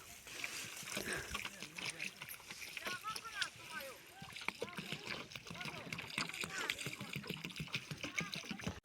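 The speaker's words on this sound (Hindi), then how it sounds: "तो पानी भी डल चुका है," Water poured and splashing onto a potato bed covered with fine grass, irregular nearby sloshing and trickling mixed with a voice talking over it.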